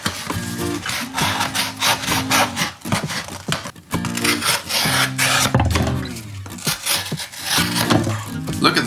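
A Whitby Kent folding knife with an olive wood handle slices through cardboard in repeated quick scraping strokes, close and loud, with brief rasping cuts and short pauses between them.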